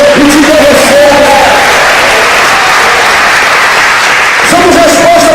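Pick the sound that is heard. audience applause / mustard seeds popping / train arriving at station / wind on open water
audience applause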